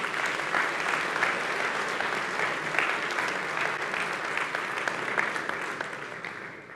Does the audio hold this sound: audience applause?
yes